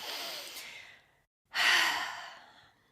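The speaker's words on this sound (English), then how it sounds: "Let's take a deep breath in." Two long, airy breaths are heard close to the microphone, one fading out, then a brief silence before a deeper breath swells and slowly trails off, with no talking.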